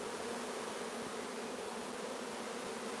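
A steady, close swarm-like drone comes from honeybees covering a nectar-soaked hive frame, a constant buzz with no pauses and no voices.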